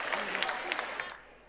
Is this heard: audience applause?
yes